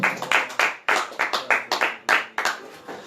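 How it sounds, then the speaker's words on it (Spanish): Bursts of hand clapping from a church congregation, rising and falling in a quick uneven rhythm, loud and close with no voices over it. "Dale un aplauso al que vive."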